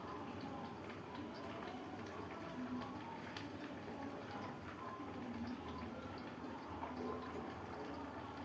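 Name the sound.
pouring cooking oil into pan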